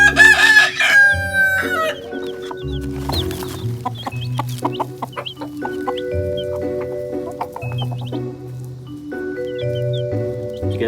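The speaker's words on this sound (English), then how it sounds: "to see what our chickens think of these baby chicks" Backyard chickens cluck loudly and close by, with a rooster crowing at the start, then irregular bursts of clucking and squawks throughout.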